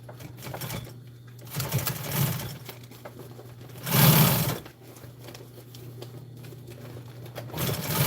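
A sewing machine stitches the bottom of custom truck storage bags, a steady mechanical hum running under faint background sounds, with a couple of louder bursts of whirring.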